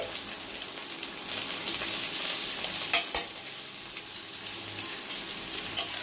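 Carrots and other firm vegetables fry in a pan with salt, a steady close sizzle with a few sharp clicks as the spatula stirs them.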